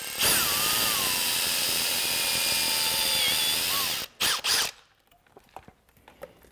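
A power drill drives a screw while a fish finder transducer is being mounted, giving a loud, continuous whirring whine for about four seconds that shifts in pitch under load, followed by two short bursts and then quiet handling noise.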